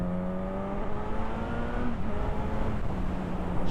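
A Suzuki GSX S950 motorcycle engine pulls hard, its tone rising steadily under a constant rush of wind, loud and continuous with no voices.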